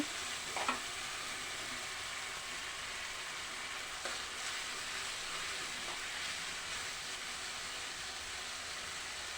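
Salted capsicum vangi bath masala being stirred in a pan, a steady soft sizzle with faint scraping strokes throughout, no voices.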